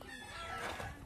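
A brief burst of chicken clucking and crowing, fairly close and continuous over a short moment, with no talk.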